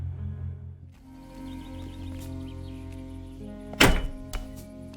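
A single kick thud in the video game Trüberbrook: one sharp, fairly loud impact burst near the middle, with a smaller knock just after, over a steady low game ambience and music.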